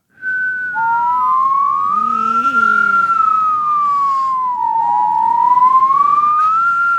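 Human voices imitate a police siren, a loud close whistling wail that rises and falls in long sweeping glides, with a second lower voice joining briefly in the middle.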